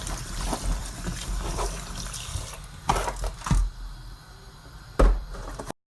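Water running from a tap while okra is washed by hand, a close splashing trickle with irregular sloshes and knocks of the pods, no voices.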